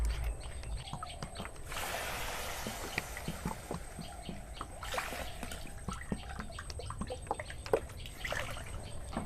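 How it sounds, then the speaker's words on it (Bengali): Water poured into a wok on the stove for making sugar syrup for wheat-flour gulab jamun, a steady trickling splash with dripping and small clinks, close by and moderately quiet. "আর দিয়ে দেবো 3 বাটি পানি।"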